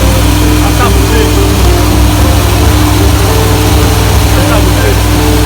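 A fire engine's pump engine runs hard and loud during a pump capacity test, a steady dense drone with constant low hum, held at high throttle throughout with no pauses.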